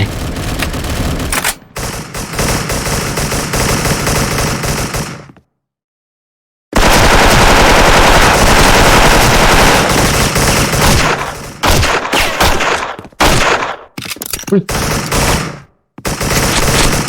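A DISCO M4A1 rifle firing in the online shooter Special Force, loud sustained automatic bursts that stop for a second-long silence, then resume and break into shorter bursts with brief gaps near the end.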